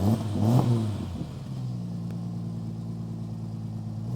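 A rolled Jeep's engine revs briefly and then settles into a steady idle on its first drive after repair, a close, continuous mid-pitched rumble with no one talking.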